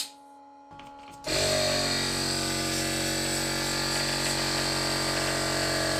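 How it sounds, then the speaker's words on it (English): A Mercedes W220 S-Class Airmatic suspension air compressor starts up after a short quiet stretch, then hums and whirs steadily and loudly with no talking over it. "I'm going to activate the compressor again."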